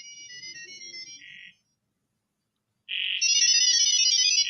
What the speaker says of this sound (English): Just these beeps and boops and things like that.